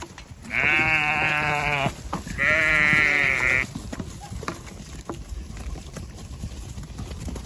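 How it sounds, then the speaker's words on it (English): Sheep moving through a farm gate: two loud, close bleats in quick succession, followed by soft shuffling and scattered hoof sounds. "All right, sheepy sheeps, come on through."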